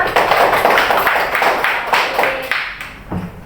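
A classroom group of students claps together, a close, loud patter of distinct hand claps that rises and falls before tapering off.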